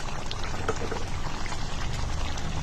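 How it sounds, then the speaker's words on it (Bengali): Fried snakehead fish go into a boiling curry, a brief close bubbling, liquid churning sound with a light splash. "ভেজে রাখা মাছগুলো দিয়ে দিব"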